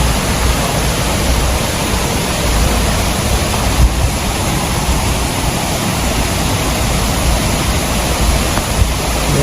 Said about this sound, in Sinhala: අපි දැන් මේ දියල්ල උඩට තමයි මේ ඇවිල්ලා